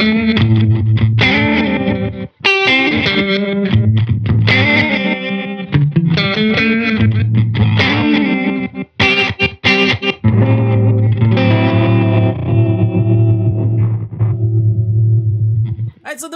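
Guitar run through the Interference effect of a Hologram Chroma Console effects pedal: loud, distorted chords and melodic phrases broken by abrupt glitchy dropouts and stutters, playing continuously without talk.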